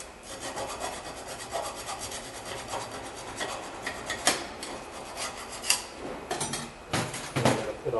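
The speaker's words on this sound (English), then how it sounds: "We're just going to file it down just so we have all that rust out of there." A hand file rasps rust off the front brake mounting hardware of a 2008 Nissan Altima in quick scraping strokes, close and steady with some sharper knocks toward the end.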